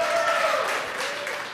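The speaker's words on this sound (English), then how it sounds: "And the cheering from the late night team here in Hawthorne." Late-night launch team in Hawthorne cheering and applauding after satellite separation, a loud burst of clapping and shouts that slowly fades.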